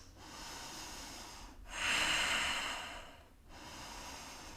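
Slow, deep breaths during a yoga stretch, a soft exhale swelling into a louder airy rush before fading, heard close and quiet with no talking.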